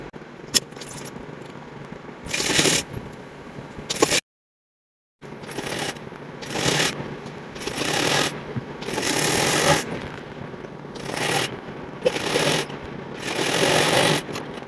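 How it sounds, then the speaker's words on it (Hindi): Sewing machine stitching a fabric strip onto a sleeve while making a co-ord set, several loud bursts of rapid needle running separated by pauses and handling noise, with one brief silent gap partway through. "और यहाँ से सिल देंगे।"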